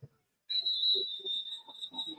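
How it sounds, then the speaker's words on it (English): Referee's whistle at a varsity high school football game, one long shrill steady blast that trails into shorter tones while crowd voices and talk murmur underneath. "It's going to be another whistle blown."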